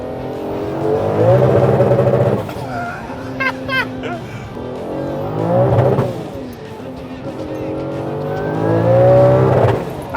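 A powerful 1000 hp turbocharged Audi A3 engine revs hard through repeated accelerations, climbing in pitch with gear changes, loud and close.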